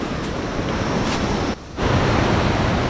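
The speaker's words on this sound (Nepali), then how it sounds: "खोलाको पानी यताबाट डाइभर्ट गरेर निकाल्छ।" River water diverted from a stream beside a homestay under construction rushes loudly and continuously nearby, with wind buffeting the microphone and a brief dip partway through.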